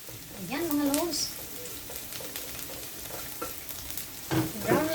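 Garlic frying in a pan for picadillo, with scraping stir strokes over a steady sizzle, while a voice talks briefly at the start and again near the end.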